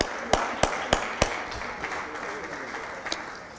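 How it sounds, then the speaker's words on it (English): Applause at a city Board of Aldermen meeting: a few loud, separate claps at the start, then a sustained soft patter of clapping across the room that thins out. "Let's give Harris Stowe one more big round of applause."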